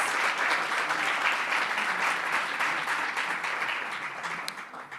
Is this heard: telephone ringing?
no